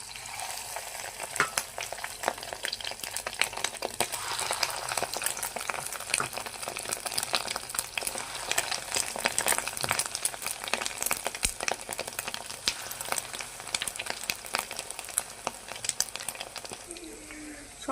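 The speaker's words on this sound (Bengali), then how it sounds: "ছোট ছোট করে ভেজে নেব বড়াগুলো।" Small bora fritters frying in hot oil in a kadai, a steady dense sizzle and crackle running the whole time with faint stirring sounds, close and continuous.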